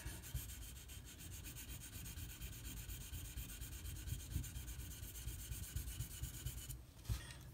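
An S90V steel knife blade is rubbed steadily across a whetstone, a continuous close, gritty scraping stroke at even level that stops briefly near the end.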